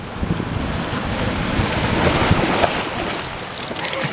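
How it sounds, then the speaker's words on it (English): Ocean surf washes onto a beach in continuous rushing noise, with wind buffeting the microphone and no voices. "That's the ocean, Diesel."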